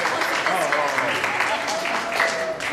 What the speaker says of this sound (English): I'm asking everyone to give a nice round of applause for that